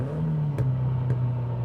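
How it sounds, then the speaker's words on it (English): A tuned 450 hp second-generation Mazdaspeed 3 hatchback accelerates hard in third gear, giving a steady droning engine and exhaust note with two brief sharp exhaust crackles over it. "Third gear it hooks up and pulls hard. Couple of crackles from the exhaust."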